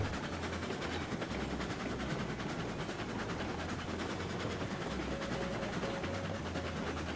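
An eight-wheel-drive locomotive in a video game runs steadily along the rails with a continuous rumble and rolling clatter, no voices.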